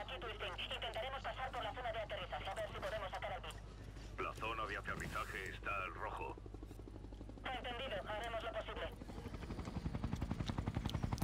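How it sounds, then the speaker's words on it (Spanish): Helicopter rotor noise from the video game Ghost Recon: Future Soldier, a steady low drone under near-continuous excited talk and game radio chatter, swelling louder toward the end. "Que me explotan el helicóptero al empezar."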